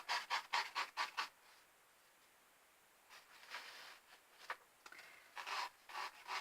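Gold leaf being gently rubbed down by hand on a surface, heard as a few quick soft rasping strokes, then a quiet pause, then several more light brushing rubs, close and faint with no talking.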